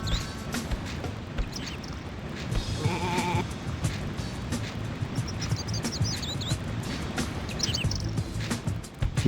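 Sheep bleating in the Looney Tunes: Sheep Raider video game, several short wavering bleats over busy game sounds and chirps, fairly close and moderately loud.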